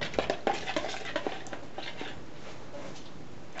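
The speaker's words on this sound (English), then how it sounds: "Get this stirred up." Rosemary mint soap batter being stirred in a container, soft faint scraping and light taps of the utensil at a slow, uneven rhythm, close by and quiet.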